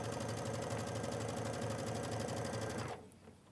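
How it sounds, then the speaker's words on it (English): A sewing machine runs steadily at close range, stitching a short backstitch along a quarter-inch fabric seam, its rapid mechanical chatter continuous for about three seconds before stopping abruptly. "I'm doing just a little tiny backstitch on there."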